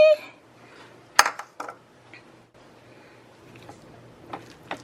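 Potato salad with dressing and celery being mixed in a bowl: scattered clinks and scrapes of a utensil against the dish, with a few sharper knocks, close and fairly quiet, no voices.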